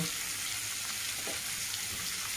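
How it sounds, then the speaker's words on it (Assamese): Fish sizzles loudly in hot oil, a dense continuous crackling hiss heard close up, with a brief stir or scrape partway through. "সেইকাৰণে মাছখিনি কমকৈ ভাজিব।"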